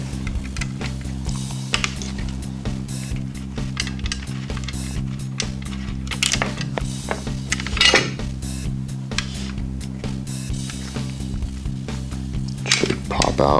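Metal clicks and scrapes while the selector switch is worked off a steel AK airsoft gun, with sharp clinks and rattles over a steady low hum and someone talking throughout.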